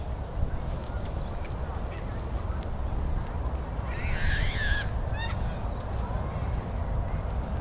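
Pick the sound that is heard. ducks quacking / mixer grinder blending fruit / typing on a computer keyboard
ducks quacking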